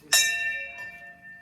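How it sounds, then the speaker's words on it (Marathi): A metal temple bell at a Mahadev shrine rings out loud and close with one bright strike and a long shimmering decay. A softer second strike follows a moment later, with no talking. "थांबा मीच घंटी वाजवतो."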